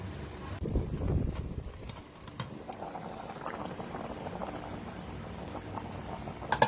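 Water boiling in a pot while Thai red curry with chicken is cooked, a steady low bubbling and rumbling churn that stays fairly even throughout, with a few faint clinks near the end.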